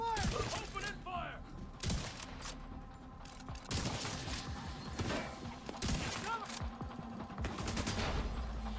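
Rapid gunfire fills a firefight in Tom Clancy's The Division 2, with dense bursts of automatic shots and impacts going on throughout at a moderate distance, while someone speaks over parts of it.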